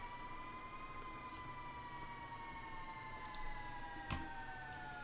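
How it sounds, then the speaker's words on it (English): Synthesized siren in a sci-fi soundscape, built from a harsh wavetable synth: two steady sustained tones gliding slowly downward over a dense noisy bed, with a brief sharp burst near the end, no talking. "And then the siren."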